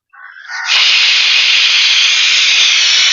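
A pressure cooker of mutton biryani rice lets out its whistle: a loud, close, steady high steam hiss that builds over half a second and then holds at full strength without a break.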